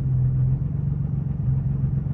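A Nissan 370Z or Infiniti G37 engine idling, a steady low rumble with a constant hum, close and even, with no talk.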